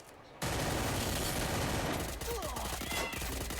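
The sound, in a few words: gunfire in the video game Free Fire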